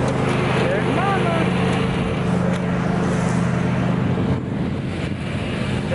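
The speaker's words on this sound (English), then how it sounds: "Is she busy mowing?" A lawn mower's engine drones steadily in a backyard on a summer day, a close, continuous motor hum that dips slightly near the end. Family members talk over the engine noise.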